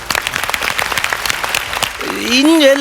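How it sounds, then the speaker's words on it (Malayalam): An audience at a comedy show breaks into brisk, dense applause that holds steady, then a voice rises over the clapping near the end. "അതിന് നിങ്ങൾ സ്പെഷ്യലായിട്ടൊരു കയ്യടി"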